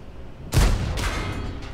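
A tank cannon shot in World of Tanks, a T-10 firing at an enemy tank, lands as a single loud, heavy boom with a long rumbling tail. A fainter second report follows about half a second later.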